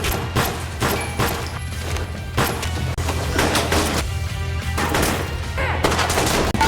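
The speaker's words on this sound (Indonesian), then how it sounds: "Dan pistol meledak." Rapid bursts of pistol gunfire crackle repeatedly over a dense, loud background, with sharp shots recurring throughout and no pause.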